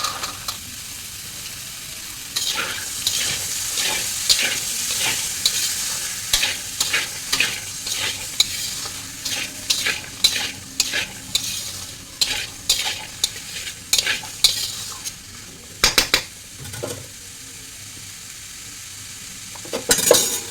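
Boiled chickpeas going into a frying pan and worked with a spoon, producing a long series of rhythmic scraping strokes and light metallic clinks over a gentle sizzle, near and clear.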